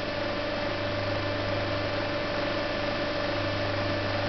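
An electric lawnmower motor running on a starting capacitor gives a steady, even hum with a constant tone and a faint hiss, unchanging for the whole stretch, with no talking.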